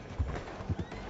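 A horse in the video game Red Dead Redemption 2 clip-clops, with a few close, dull hoofbeats over a low, rumbling game backdrop.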